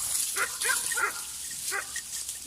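A dog barks in a quick burst of several sharp yaps, then once more after a pause, fairly close.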